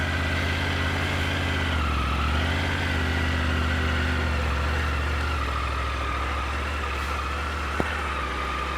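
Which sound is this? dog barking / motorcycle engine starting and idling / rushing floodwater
motorcycle engine starting and idling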